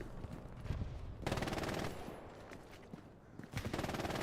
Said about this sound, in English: The cooked nade doesn't kill him.